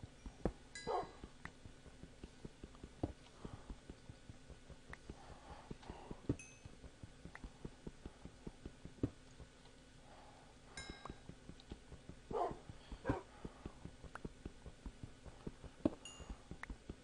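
Dogs in a blocky Minecraft-style video game give scattered yips and whimpers, faint and intermittent over a steady game backdrop with periodic clicks, with no talking.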